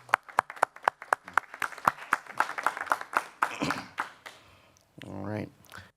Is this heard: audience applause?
yes